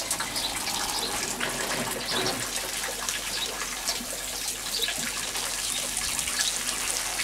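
Pump-fed sprinkler spraying water outdoors, a steady broadband hiss and patter of falling droplets, moderately quiet and continuous without speech.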